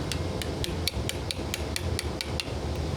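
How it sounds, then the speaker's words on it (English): A small chisel is hammered to pull nails from a log, giving a steady run of sharp metallic taps about every quarter second, close and loud over a low background rumble. "I like using a smaller chisel when I get nails, just so I don't totally nuke the entire site."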